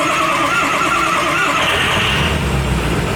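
A damaged car engine cranks and catches without starting fluid, a loud, steady churning that rises into a rougher running roar near the end, close by with no talk.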